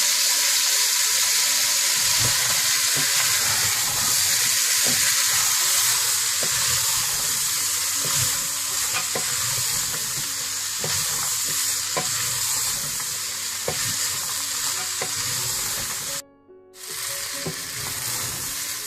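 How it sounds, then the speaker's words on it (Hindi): Chickpeas sizzle loudly in hot masala, frying close up with a constant hiss, while a spoon scrapes and stirs through them in irregular clinks and knocks. The sizzle cuts out briefly near the end, then resumes. "इसके बाद आप ये चने इस मसाले में डाल दें और इनको अच्छी तरह 10 से 15 मिनट भून लें।"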